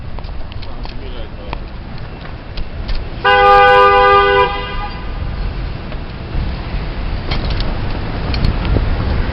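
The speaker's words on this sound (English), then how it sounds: "No, they were not honking at me." A car horn blares in a city street at night, one sustained honk of about a second over continuous traffic rumble and passing vehicles.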